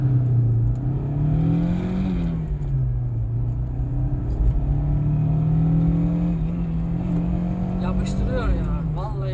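Fiat Tipo with a rebuilt 1.6 MPI engine pulls hard under acceleration on a road test, a loud steady drone rising and falling in pitch, with a voice talking over it.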